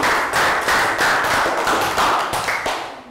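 A Year 3 science class gives a round of applause: brisk, loud clapping from many small hands in a classroom. It keeps a quick, steady rhythm for about three seconds, then tapers off.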